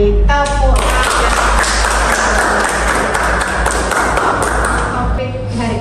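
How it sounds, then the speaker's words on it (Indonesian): Students in a guidance and counselling classroom session clap their hands together, a dense burst of applause that holds steady for several seconds, close and fairly loud. "Tepuk tangan."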